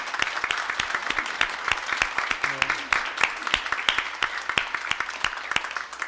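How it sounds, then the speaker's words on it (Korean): A church congregation applauds in welcome for a newly registered member, steady rapid clapping from many hands filling the room, with a faint voice briefly audible underneath. "우리 주님의 이름으로 환영하고 축하의 박수 보내드리겠습니다"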